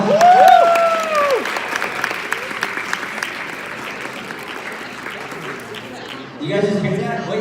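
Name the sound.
audience round of applause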